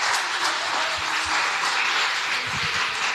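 Applause from a church congregation at a Sunday gathering in Gatineau, a steady wash of many hands clapping together at close range with no talk over it.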